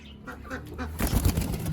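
A pigeon's wings flap in quick bursts close by, the fluttering growing louder and busier toward the end amid rustling.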